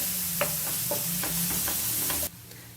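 Finely chopped garlic frying in ghee for mushroom garlic rice, with a faint sizzle and a run of light scraping stirs close by before the sound cuts off sharply.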